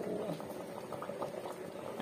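Minikit rice boiling in a pot for khichuri, a soft bubbling patter that keeps up steadily at close range, with light background sound and no clear talk.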